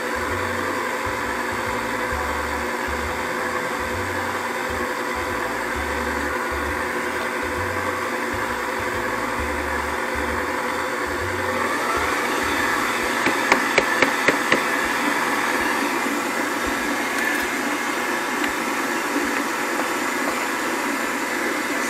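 A cheap electric hand mixer runs steadily through dry ingredients for hot-dog buns, a constant whirring motor drone with rhythmic low pulsing and a cluster of sharp knocks near the middle as the beaters hit the bowl.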